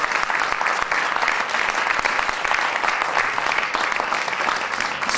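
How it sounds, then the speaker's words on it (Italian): Steady, dense applause from a gala audience at a New Year's evening event on Lake Garda, loud and continuous throughout with no pauses or voices over it. "l'applauso per la vostra cortesia e disponibilità"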